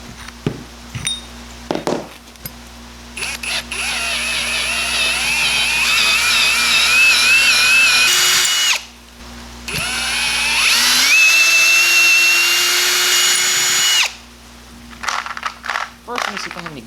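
A power drill tapping threads for a mower deck spindle whines loudly in two long sustained runs, its pitch rising and shifting, with short clicks and handling noise between them.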